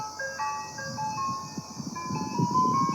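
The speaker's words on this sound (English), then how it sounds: "So this is part of the Mr. Dingaling theme song." An ice cream truck chime plays part of a tinkly Mr. Dingaling melody, bright single notes stepping up and down over a low rumbling background, heard up close and alone.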